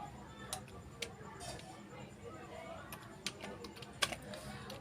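Someone types data into an Excel spreadsheet on a computer keyboard: quiet, scattered key clicks with a few sharper taps, close by over faint room hiss.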